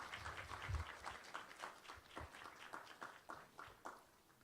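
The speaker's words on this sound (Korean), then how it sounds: "우리 다 함께 축복의 박수 부탁드리겠습니다" A church congregation applauds during a Sunday worship service, a soft, fairly distant patter of many hands clapping unevenly, with a low voice briefly under it at the start.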